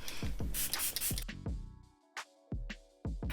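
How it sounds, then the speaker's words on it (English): Several short hissing sprays from a pump bottle, quick bursts in a loose rhythm, close and crisp, with brief pauses between them. "Now to make all those powders set, we're gonna spray again."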